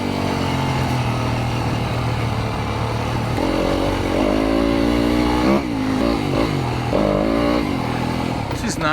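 A Yamaha YZ250FX dirt bike ridden on single track in second gear, its engine droning steadily and close, then rising and falling in pitch as the throttle varies.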